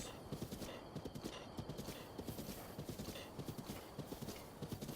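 Horse hooves clip-clop in a steady, fast rhythm in The Legend of Zelda: Breath of the Wild, loud and continuous with game ambience underneath.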